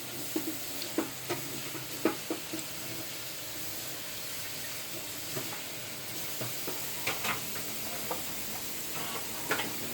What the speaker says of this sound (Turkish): Böyle cızır cızır sesler geliyor.